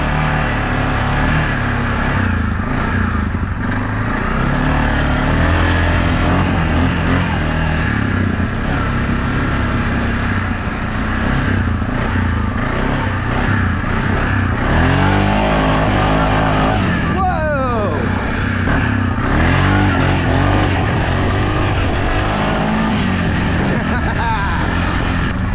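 A stock Honda Pioneer side-by-side with a heavier secondary clutch spring and primary shim revs while mudding in a yard, its engine droning loudly and continuously, surging and falling, with occasional speech over it.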